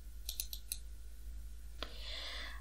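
A computer mouse is double-clicked while working in an Excel spreadsheet. A quick run of crisp, close clicks comes in pairs, followed after a pause by a brief rushing swish over a low steady hum.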